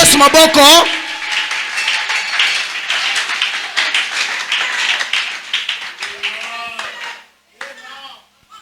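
A church congregation claps and applauds over cheering voices, a steady run of dense handclaps that fades out toward the end, with a preacher's voice speaking over it.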